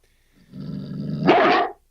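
A dog barks in a short burst, a low growling rumble building into one loud, sharp bark close by, with no talking.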